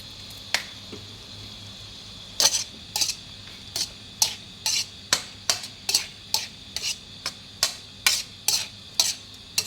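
Minced pork with holy basil and kale stir-fried in a pan after fish sauce goes in: sharp, evenly spaced spatula scrapes and clanks repeat about twice a second over a low steady sizzle, close and with no talking.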